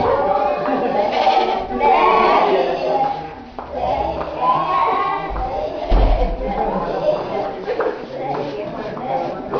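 Sheep bleat repeatedly through a staged drama about a shepherd and his flock, their wavering cries mixed with a voice speaking French over most of the scene.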